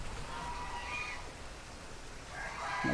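Chickens cluck and a rooster-like call rises near the end over a steady outdoor hiss, with faint bird sounds scattered throughout, as chickens and ducks shelter under trees.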